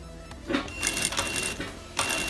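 Sewing machine running in short bursts while stitching a blouse back seam, backstitching at the start; the motor whirs near and clear in two or three stop-start runs with brief pauses between.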